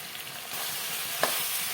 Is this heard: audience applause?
no